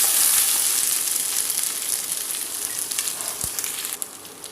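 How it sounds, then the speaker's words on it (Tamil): Chopped onions and ginger paste frying in hot oil in a pan, a steady loud sizzle and crackle that slowly eases, with a few scattered pops toward the end and no talk. "நல்லா ஆயிலில் நல்லா வெங்காயம் வெந்து வரும்."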